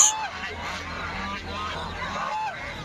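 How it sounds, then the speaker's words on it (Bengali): Large domestic geese honk at a village poultry market in Bangladesh, a cluster of harsh nasal calls close by amid general market bustle, with voices in the background. "এই যে দেখেন কত বড় বড় রাজহাঁস।"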